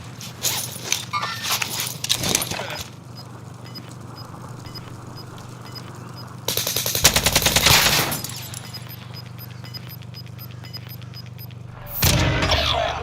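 Gunfire in Call of Duty Warzone, heard as loud rapid bursts of automatic fire in several stretches, with steady background game noise and a tonal hum between the volleys.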